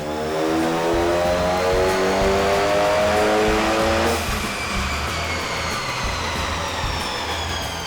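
An Audi A4 B8 with a big turbo and new intercooler runs on a dyno on a hot day, its engine climbing in a loud sustained pull with rising whine, then lifting off to a lower roar and fading tone.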